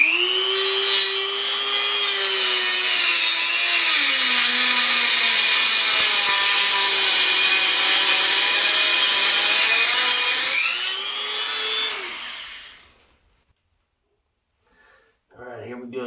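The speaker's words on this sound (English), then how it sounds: "This is a Dremel, and it just has a little cutoff wheel on it." A small Dremel rotary tool with a cutoff wheel grinds through metal in a loud, close, high-pitched whine. The pitch dips and rises under load for about ten seconds, then spins down and stops.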